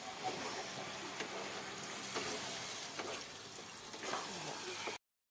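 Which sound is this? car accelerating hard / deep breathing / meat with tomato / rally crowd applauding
meat with tomato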